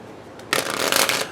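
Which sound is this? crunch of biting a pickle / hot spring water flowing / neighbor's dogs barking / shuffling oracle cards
shuffling oracle cards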